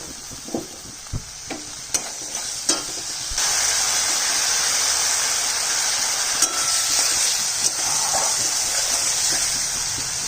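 Spice masala for paneer curry frying in a pan with salt and a splash of water: a few scraping stirs, then a loud, steady hiss of sizzling that continues evenly to the end.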